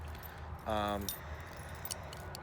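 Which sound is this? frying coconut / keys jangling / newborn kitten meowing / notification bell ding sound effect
keys jangling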